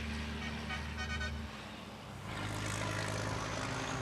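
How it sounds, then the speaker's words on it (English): A high-pitched truck horn toots over a heavy engine rumble, loud and close, as vehicles roar past at a race. "You've got to love how high-pitched that horn sounds compared to how beefy you'd expect it to be"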